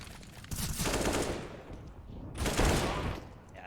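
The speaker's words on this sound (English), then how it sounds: "Another shot lands from David." Rapid gunfire in a Counter-Strike match, two loud dense bursts of shots separated by a short lull, with no talk over them.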